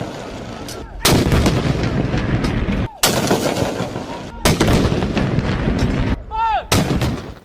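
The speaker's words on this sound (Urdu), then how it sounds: "وفاقی دارالحکومت اسلام آباد میں 31 توپوں کی سلامی دی گئی۔" Artillery guns fire an Independence Day salute in Islamabad, a series of loud booming blasts with long rumbling tails between them, and a brief high chirping sound near the end.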